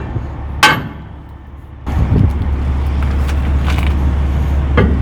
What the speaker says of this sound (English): let's bust this brake drum loose with the sledgehammer